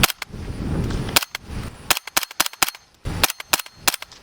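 Suppressed gunshots from a rifle fitted with a B&T Print X SD suppressor and vented end cap, a string of sharp, loud cracks fired in quick irregular bursts with short gaps between, each followed by a brief low rumble.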